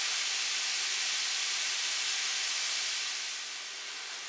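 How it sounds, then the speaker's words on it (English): Pork for dirty rice sizzles in a hot pan, a steady bright hiss close up that eases slightly toward the end, with no talking. "now I can hear the pan sizzling down"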